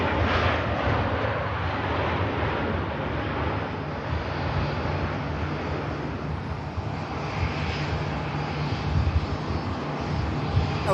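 A Ryanair airliner touches down at Manchester Airport amid a broad, sustained roar of jet engines and rushing air, steady and fairly loud for the whole stretch.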